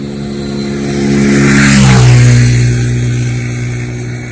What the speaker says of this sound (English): This looks like a motorbike.